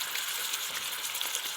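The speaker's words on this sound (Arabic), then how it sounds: "نقلي البتنجان بتاعنا" Salted eggplant slices fry in hot oil, giving a steady, close sizzling hiss with fine crackles throughout and no talking.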